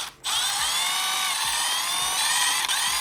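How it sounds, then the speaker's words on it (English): Small power driver backing bolts out of a gear cover on a Traxxas Maxx RC car, a steady high-pitched whine that starts abruptly and runs close and loud without a break. "let's first take these bolts out"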